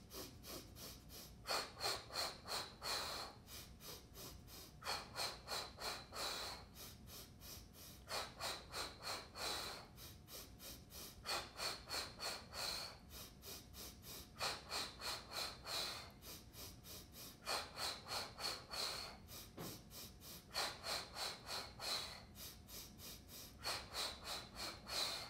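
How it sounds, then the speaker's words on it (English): Rhythmic warm-up breathing with arm pumping, forceful breaths in even bursts of about five, repeating steadily with short pauses between sets, close and clear with no talk. "As we breathe in, pumping our arms."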